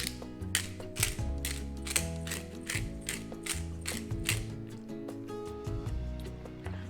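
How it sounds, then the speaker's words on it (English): A pepper mill grinds black pepper in a run of crisp, ratcheting crunches, about a dozen quick twists with short pauses, close and clear over a low background hum while someone prepares a plant-based baked dish. "I'm gonna add some freshly ground pepper."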